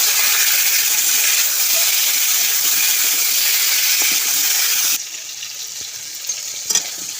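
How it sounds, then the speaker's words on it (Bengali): Loud, close frying hiss from a pan while making mango jaggery, a steady dense sizzle for about five seconds before it drops to a softer simmer with a few faint clicks. "একটু ভালো করে ভেজে নেব।"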